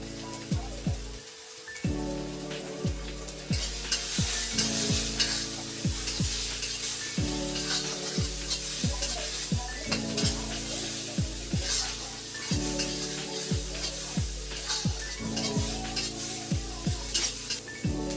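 Spices sizzling in hot oil with turmeric and chili powder for a Bengali egg curry, stirred steadily with a spoon that scrapes the pan in a repeated rhythm, close and continuous with no talk.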